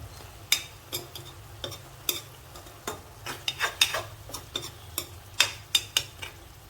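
Cooked okra being reheated in a pan and stirred, giving a string of sharp scraping and clinking strokes at an uneven rhythm over a faint low sizzle, close and fairly quiet, with no voices.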